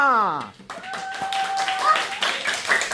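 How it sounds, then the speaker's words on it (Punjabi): Applause and clapping for children singing at an office kids' competition, a dense patter of hands that swells after a sung note fades, with voices mixed in. "ਤਾਲੀਆਂ।"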